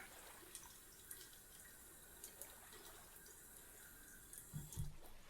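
Running water from a tap wetting a man's hair during a grooming session, a faint close splashing and trickling flow with small drips, soft and steady, then a brief louder handling noise near the end.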